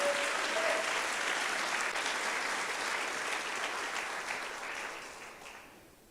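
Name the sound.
congregation applauding in church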